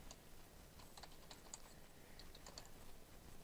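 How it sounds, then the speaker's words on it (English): Keys typed on a computer keyboard in a run of faint, quick clicks over a steady background hiss, with no voices. "we're going to type in internet marketing"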